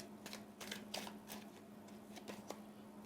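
Tarot cards being drawn and shuffled, a series of soft papery riffles and flicks at irregular intervals over a steady low hum, fairly quiet and close, with no voices.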